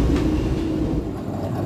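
The Mutiara Timur night train pulls into Banyuwangi Kota station, a steady loud low rumble of the rolling carriages heard from inside, with a faint squeal that settles as it slows.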